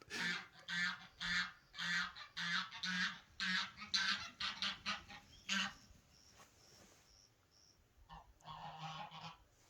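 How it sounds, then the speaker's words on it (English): Geese honk repeatedly in a rapid run of loud, nasal calls for several seconds, then pause and resume with a final burst of honking nearby. "Geese have their own divine unique to them calls."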